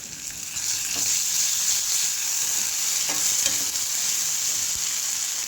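Ginger paste fries in a pan with onions for a bottle gourd and tomato curry, a continuous close sizzle with light rhythmic scraping as it is stirred.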